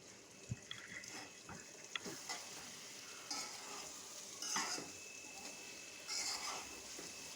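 Green mango pickle with jaggery being stirred in a pot, soft scraping of a spoon with a low sizzle beneath and a few sharper clinks of utensil against the pan, fairly quiet and unaccompanied by talk.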